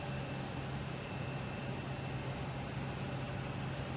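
A JetBlue Airbus A220 jet arrives at Boston Logan Airport, a steady broadband roar with a faint high whine that holds at an even level throughout.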